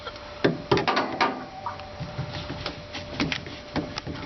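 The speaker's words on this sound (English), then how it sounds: "go ahead and stick that in your 90" A short leftover length of PVC pipe being worked into a 90-degree elbow fitting on a condensate drain line for a new Rheem furnace. Scraping, rubbing plastic is heard with several sharp clicks and knocks, close by, with no talk.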